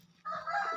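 A chicken gives a short, sudden call, a brief burst of clucking close by that lasts under a second and is heard alone after near silence.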